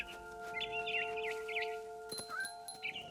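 Birdsong from the video game What Remains of Edith Finch, a run of bright chirps and warbles over steady music tones, moderately close and clear with no talk.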